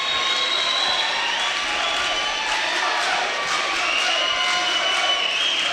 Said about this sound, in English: The Naperville North students cheering in your face.